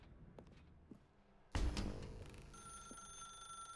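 A telephone in The Stanley Parable starts ringing abruptly after a quiet stretch, a loud bright bell tone that rings on steadily with a sustained metallic shimmer.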